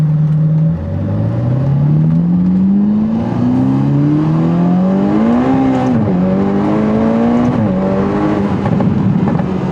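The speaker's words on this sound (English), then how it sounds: "Oh, but that exhaust. Ah, God, I love that exhaust." Ferrari exhaust roaring from the cabin while driving, the engine note climbing steadily through two long pulls with a shift between them, loud and continuous with a raspy edge.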